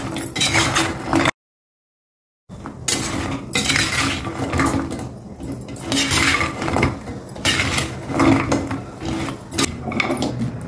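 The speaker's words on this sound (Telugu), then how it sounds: "వేసేసి ఒకసారి కలపండి బాగా. అందులో ఈ పాకం మొత్తం ఆ కొమ్ములకి కలిసేటట్టుగా కలపండి." A spoon stirs thick jaggery syrup through fried dough sticks in a pan. It makes loud, continuous metallic scraping and clinking against the pan, broken by a brief silent gap, with no talk.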